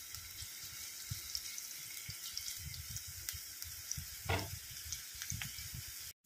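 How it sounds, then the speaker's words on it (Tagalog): Ginger sautéing in a pan, a continuous close sizzle with occasional crackles and one brief louder burst, no talk. "Ginger, yung una kong ginisa"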